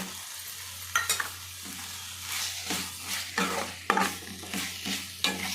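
Chicken pieces going into a hot pan for a chicken and potato curry and being stirred, with repeated scraping strokes of the spoon and a steady sizzle underneath, close and moderately loud.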